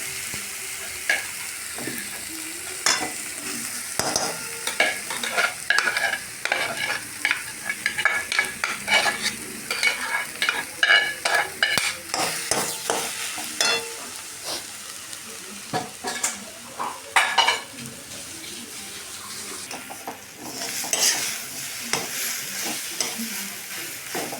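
Mashed boiled potatoes for aloo paratha filling are stirred and fried in a pan, a soft ongoing sizzle punctuated by irregular scraping and tapping of the spoon, close and alone without talk.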